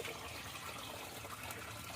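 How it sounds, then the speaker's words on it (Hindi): Water is poured in to prepare an Ayurvedic herbal pain-relief remedy in Nepal, a steady, close gushing splash that continues throughout with no voices. "पानी थपौँ थप्नु थप्नु"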